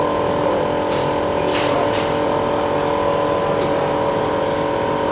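An air suspension compressor on an Iveco recovery truck pumps up the airbags, giving off a steady, loud mechanical drone with a few faint hisses on top.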